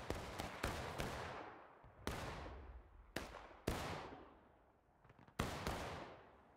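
Musket volleys in the Civil War game War of Rights: about six sharp, loud shots crack out at irregular intervals, each trailing off in a long echoing decay, with no talking.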